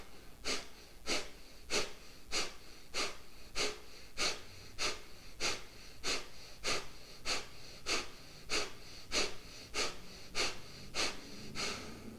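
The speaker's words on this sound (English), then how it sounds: "you're really pulling that belly in on the exhale" Forceful rhythmic yoga breathing exercise with sharp exhales pulled from the belly: about eighteen quick, loud, evenly spaced breath bursts through the nose, close and steady with no talking.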